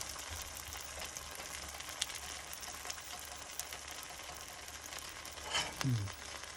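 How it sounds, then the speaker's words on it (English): A cinnamon kudla pancake cooking in ghee and jaggery in a pan gives off a faint, steady hissing sizzle, with a brief rising squeak near the end. "Once I hear that sizzle, I'm gonna just turn down the heat so that it doesn't stick to the pan, the pancake,"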